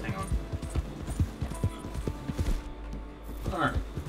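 Hooves clip-clop in a steady, fairly close rhythm as a horse is ridden in Red Dead Redemption 2, with a brief whinny near the end and a voice talking over the gameplay.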